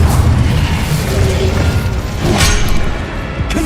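Repeated spell blasts in Hogwarts Legacy, a dense run of booming, crashing bursts over a continuous rumbling bed, with a sharper burst near the middle and another toward the end.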